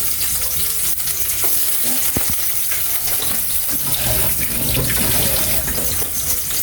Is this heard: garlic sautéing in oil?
yes